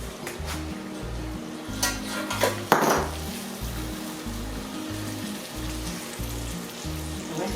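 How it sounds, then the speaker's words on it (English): Seared Montreal-crusted steak is shifted from a pan into a casserole dish, with scattered clinks and scraping of metal and crockery over a low, steady sizzle and a soft, rhythmic background pulse. "So what we're gonna do now is just transfer this meat into this casserole"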